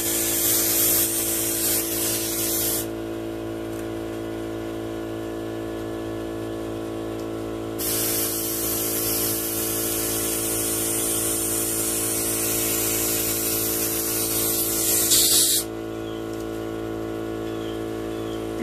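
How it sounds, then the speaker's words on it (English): An air compressor steadily inflates an electric bike tire on a Lectric XP, with a continuous loud hissing rush and motor hum that shifts in intensity a few times, close up and without speech. "fortunate to have a compressor, and I don't have to do this with a hand pump"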